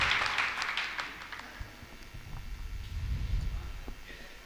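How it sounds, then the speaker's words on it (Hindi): Applause at an Urdu-Hindi mushaira poetry gathering: a burst of clapping at the start fades into a lower, scattered patter with a murmuring crowd and low rumble. "एक बार जोरदार तालियां नाजिम साहब के लिए रही"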